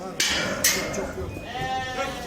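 Sheep bleating at a livestock market in Akhisar, Manisa, where ewes with lambs are being sold; a few bleats rise over steady crowd murmur and nearby voices.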